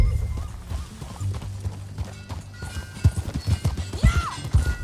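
Horse hooves clip-clop at a steady gallop in Red Dead Redemption 2. The footfalls are close and rhythmic over a low rumble, with a brief whinny near the end.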